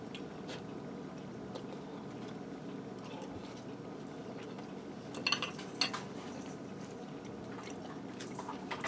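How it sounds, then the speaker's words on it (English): Close clinks and scrapes of a knife and fork on a plate, cutting fried, crispy pierogies, with a couple of sharper crunchy cuts near the end, over faint room noise. "Now these are a little harder to cut because they got crispy from frying in there."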